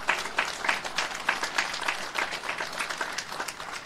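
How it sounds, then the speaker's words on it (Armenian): A crowd applauds an army general at a political gathering, many hands clapping in a steady, rhythmic pattern that carries on for several seconds at moderate loudness. "գեներալի համար ծափահարենք եւ ողջունենք"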